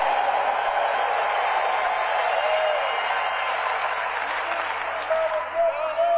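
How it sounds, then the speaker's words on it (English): A rally crowd in Arizona roars with steady cheering and applause, a dense wash of voices that stays loud and continuous throughout, with hints of rhythmic chanting toward the end. "the crowd breaks out in a USA chant"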